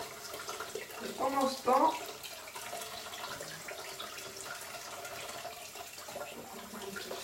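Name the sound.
tap water running until it gets hot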